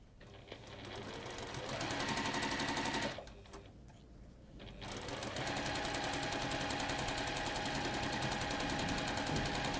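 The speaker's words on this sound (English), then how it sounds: "I'm going to stitch this side now," Sewing machine stitching along a drawn line, a close, fast, steady mechanical chatter that runs for a couple of seconds, dips briefly, then resumes and continues evenly to the end.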